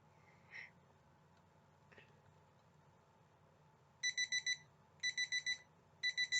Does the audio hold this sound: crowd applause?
no